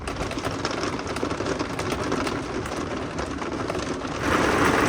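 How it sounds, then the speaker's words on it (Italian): Steady rain from a Tuscan thunderstorm patters densely on a surface at a camper stop, a continuous hiss that swells slightly louder near the end. "questa è la pioggia toscana"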